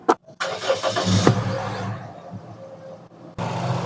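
A car engine cranks and fires up after its spark plugs were swapped for ones in good condition, on a car with a missing, jerking fault, then settles into a steady, close idle with no talk.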